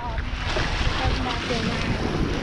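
Strong wind gusting along a Gulf shoreline trail at DeSoto National Memorial in Bradenton, Florida, a steady loud roar buffeting the microphone with water and surf noise beneath it.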